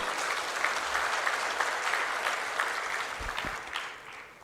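Sustained applause from a crowd at a political speech in Indonesia, steady dense clapping throughout with no talking.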